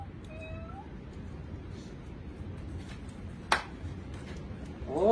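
A voice mimics a kitten's meow in a few short, high, sliding calls near the start and again at the end, over a low steady background rumble with a sharp click midway.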